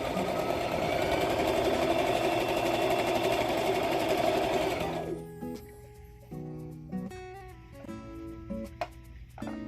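A domestic sewing machine stitches a churn dash quilt block, running in one continuous whirring burst for about five seconds, then stopping and giving way to a few short, quieter mechanical clicks and thumps.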